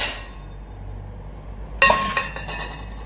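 A plate clinks sharply against other dishes in a home kitchen, one bright contact ringing briefly over quiet background noise.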